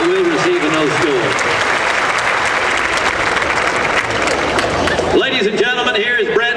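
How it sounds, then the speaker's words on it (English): A rodeo grandstand crowd claps loudly for a cowboy's ride, dense sustained applause filling most of the span, with an announcer's amplified voice heard at the start and again at the end. "How about a consolation round of applause for a cowboy that did ride extremely well, but will receive a no score."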